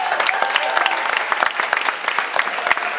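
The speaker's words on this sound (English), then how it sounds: "everyone will give them a huge round of peer group applause" A crowd at a mentalism stage show claps loudly for volunteers coming up, sharp overlapping hand claps in a lively continuous burst.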